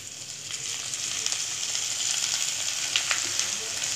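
Bitter gourd sizzles steadily in a cup of hot oil, a dense, even crackle and hiss that holds at a constant level from start to finish with no voices.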